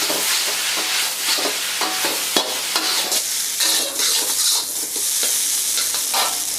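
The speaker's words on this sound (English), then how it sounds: "just mix everything together" Light soy sauce, sambal and vinegar stirred together in a hot pan: close, loud sizzling with repeated scraping strokes of a utensil in an uneven rhythm, no voices.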